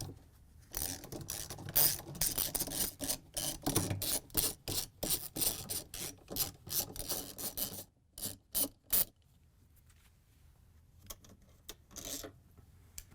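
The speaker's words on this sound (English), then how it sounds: "we can use a 10mm socket to remove the bolts that hold the stator in" A 10mm socket on a ratchet backs out the stator bolts of a Samsung washer motor. Rapid close clicking runs in bursts, then stops into quiet gaps near the end, with no voices.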